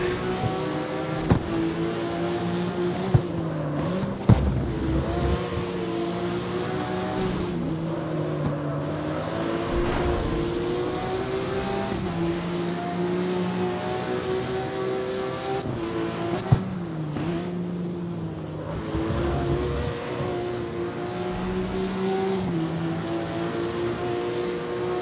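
Porsche 911 in the street-racing game CarX Street, its engine droning steadily with a smooth rising and falling pitch as it revs through gears, plus a few faint clicks and no talking.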